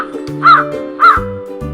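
Two crow caws ring out in an animated Hindi moral story, each a short harsh call about half a second apart, over sustained background music.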